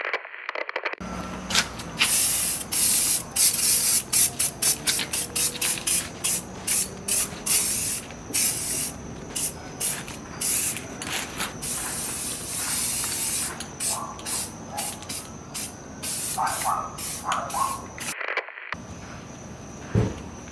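Rust-Oleum truck bed spray paint hisses from an aerosol can onto rusty rocker panels in repeated short bursts, close and steady, with brief pauses between passes.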